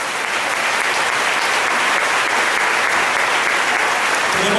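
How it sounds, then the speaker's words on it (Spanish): Steady, dense applause from a congregation at a church retreat, continuous and even from start to finish with no talk. "Vamos a honrar la palabra con un fuerte aplauso."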